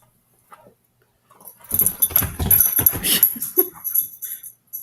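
A dog working a squeaky toy indoors, a burst of rapid chewing squeaks and jangling rustle lasting a few seconds, close and fairly quiet, with no talk over it.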